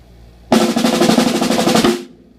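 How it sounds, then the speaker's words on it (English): Double stroke roll played on a drum kit, a rapid even burst of stick strokes lasting about a second and a half, loud and close, then stopping cleanly and ringing out briefly. "It's just a regular double stroke roll."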